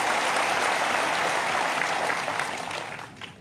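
An audience at a political speech by a BJP SC Morcha leader in Tripura applauds, with dense, loud clapping from a large crowd that fades out over the last second.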